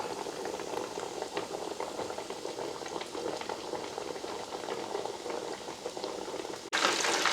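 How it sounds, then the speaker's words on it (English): Catfish fries in hot oil with a steady, dense crackling and bubbling sizzle that stays close and even, then jumps suddenly louder just before the end, with no talking. "All right, so we're gonna let that fry for a few minutes"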